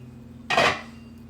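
Pineapple country style ribs being turned in a crockpot, a single short clatter of a utensil against the pot midway, otherwise quiet.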